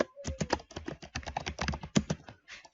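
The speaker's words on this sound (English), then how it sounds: "And here we're going to type in FP, or we can actually type it out as first person." Typing on a computer keyboard, a rapid run of close, distinct key clicks in an uneven rhythm, ending in a short pause, with no talk.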